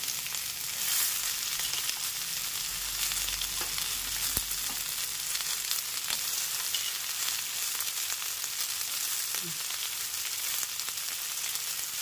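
Ivy gourd and potatoes frying in a pan, a loud, unbroken hissing sizzle throughout with faint stirring.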